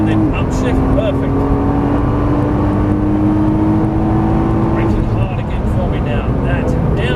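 Nissan GT-R on a race track pulling hard out of a corner, a loud continuous engine roar with a rising tone that drops at an upshift, then climbs again, heard close from inside the car.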